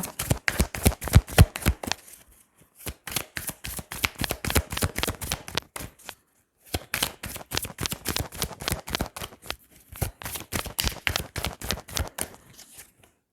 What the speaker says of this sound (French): je vais recouvrir certaines cartes